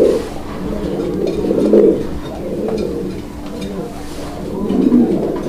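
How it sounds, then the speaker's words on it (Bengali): A pair of king pigeons coos close by in soft, repeated low rolling calls. A person talks over the cooing. "দর্শক আমরা এই মুহূর্তে দেখাচ্ছি আরো এক জোড়া কবুতর, শৌখিন গেটআপের এক জোড়া কিং কবুতর"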